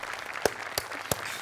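A short burst of steady audience applause at an award presentation, with a few sharper, louder claps standing out from the dense patter.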